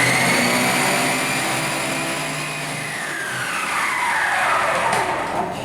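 An electric mixer whirs loudly and continuously as it beats eggs with brown sugar for a chocolate mousse cake, its motor pitch sliding and shifting as the beaters move through the bowl.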